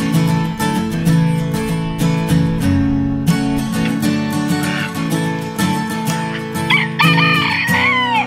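An Indio rooster crows and chickens cluck on a farm kept with turkeys, ducks, geese and guinea fowl, the calls layered and fairly close over a steady, dense background.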